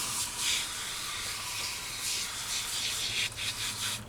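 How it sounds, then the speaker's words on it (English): An aerosol can of Armor All upholstery cleaner hisses in several short bursts of spray, close up, with brief pauses between them. "Spray it on."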